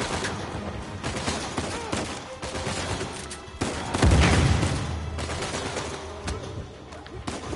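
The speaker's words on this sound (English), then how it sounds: "Somebody's shooting me from the upstairs." Rapid bursts of gunfire in the video game Uncharted 4 during an ambush, with shots fired from upstairs; dense, overlapping volleys run throughout, peaking in a heavy blast midway.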